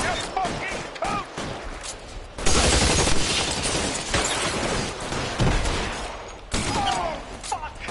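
Gunfire in the video game L.A. Noire, a dense burst of shots and rattling fusillade with a loud sustained volley midway, mixed with game voices and effects.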